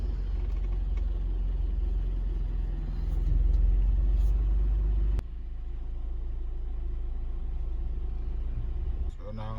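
A Mercedes-Benz C300 engine runs at a steady idle, a low, even rumble that continues throughout with a brief swell midway, while a person talks over it.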